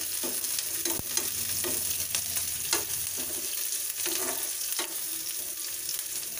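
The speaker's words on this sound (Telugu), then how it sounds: "ఇప్పుడు కరివేపాకు వేసుకోవాలి వేసుకొని ఒకసారి కలుపుకుందాం" Onions and curry leaves sizzle and fry in a pan for paneer bhurji, a steady crackling hiss broken by scraping stirring strokes, close and clear with no voices.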